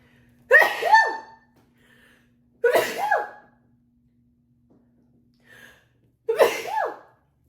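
Three loud, close sneezes from a woman during allergy season, each a sharp burst with a short breathy tail, spaced a couple of seconds apart with quiet between.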